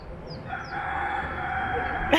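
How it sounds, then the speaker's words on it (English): A chicken at a Key West outdoor spot makes a short crowing call and brief clucks, moderately close, over a steady hum of ambient outdoor noise. "Oh, you got a little chicken."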